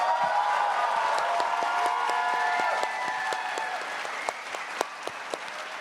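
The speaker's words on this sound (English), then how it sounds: "can we have a little round of applause for this amazing cast?" A convention panel audience at New York Comic Con 2019 applauds the cast of The Expanse, dense clapping that gradually thins into a few scattered, distinct claps at the end.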